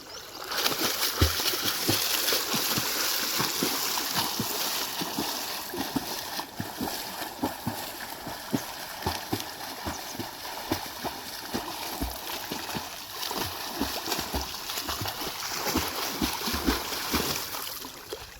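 Swimmer's legs bent at the knee and kicking in a pool, a steady run of choppy splashes and water slaps, fairly close and continuous, with no talking.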